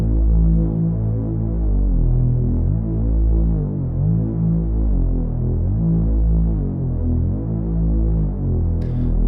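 A deep, throbbing Afro house synth bass repeats a steady pattern of low sustained notes, loud and continuous with no voices.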